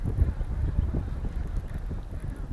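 Steady wind buffeting the microphone on a lake while fishing from a boat in windy conditions, a continuous low rumble with gusty surges and no talking.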